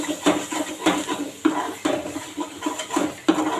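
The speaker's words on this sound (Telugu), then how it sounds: "ఇదైతే బాగా కలిపేద్దాం." A spoon scraping and clattering against a pan while egg tomato curry is mixed, with repeated rhythmic stirring strokes, close and moderately loud, with no talking.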